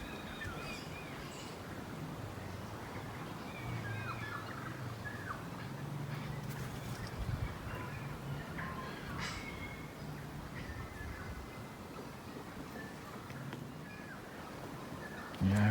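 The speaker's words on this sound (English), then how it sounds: "To hear some of the local birds." Local birds calling in a kauri rainforest at Waitakere Regional Park near Auckland, New Zealand, scattered faint chirps and calls over a soft, steady ambient hush, distant and quiet throughout.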